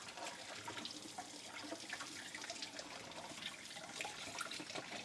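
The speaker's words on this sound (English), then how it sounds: "Everything is rinsing off pretty well right now because water has been pouring over it for a little bit." Hot tap water pours steadily over dishes in a kitchen sink during hand washing with a dishwashing brush, a continuous broadband splash and trickle at close range with no talking.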